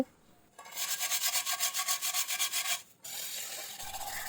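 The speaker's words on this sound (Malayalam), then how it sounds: "ഇതിൻ്റെ സൈഡ് വശമെല്ലാം സ്ക്രബ്ബർ വെച്ചിട്ടാണ് ഞാൻ ഉരച്ചു കൊടുത്തത്" A scrubber rubs hard at the worn coating of a nonstick pan in a fast, even run of about a dozen rhythmic strokes, close and fairly loud, then stops into quiet rustling.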